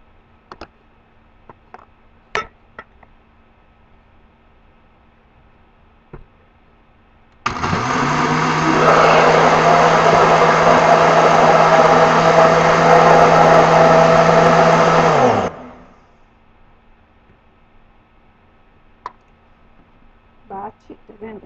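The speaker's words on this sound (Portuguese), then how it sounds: "Bate tudo no liquidificador." A blender mixing bread dough whirs loudly and steadily for about eight seconds, its motor labouring under a thick load, with quiet clicks and handling noises before and after.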